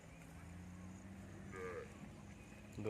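A cow near a hillside temple lets out a single faint moo midway through, over a quiet outdoor background hum.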